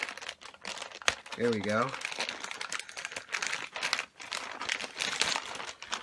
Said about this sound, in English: Should be able to just rip right through this.